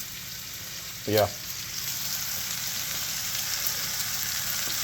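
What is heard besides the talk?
chuck roast searing in a pan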